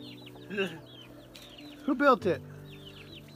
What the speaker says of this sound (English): Gotta put the chickens away?